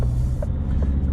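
A Range Rover turning in on a suburban road, heard as a steady low engine rumble and road noise from inside a car waiting for it, without talk.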